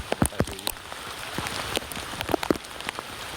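Steady rain falls during a bike ride, a dense wash of close patter with scattered sharper drops hitting nearby surfaces, no voices.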